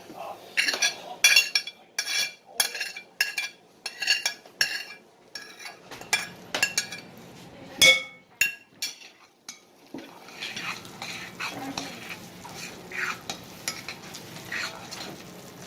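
Panko and cooled sauteed vegetables being stirred together in a bowl for crab cakes, with a utensil scraping and clinking against the bowl in quick irregular strokes; a quieter, softer mixing passage follows.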